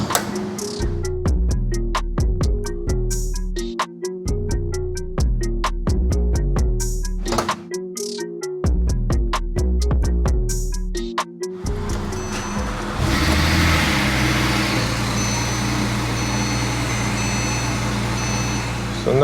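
A rebuilt, previously wrecked Porsche 997.2 Turbo S gives a long run of rapid electronic ticks and clicks before its engine catches and settles into a steady, close running roar.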